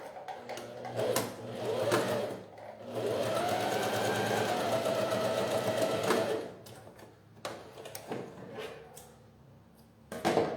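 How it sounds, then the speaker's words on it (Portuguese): A sewing machine runs a seam along the edge of fabric for a cloth jewelry holder, with steady motor whir and needle chatter in a sustained burst between short starts and stops, close and clear. "eu vou passar uma costura bem aqui na beirada"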